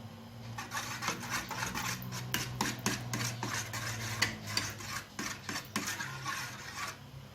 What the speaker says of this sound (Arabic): مع التحريك المستمر حتى يذوب لك الجلوكوز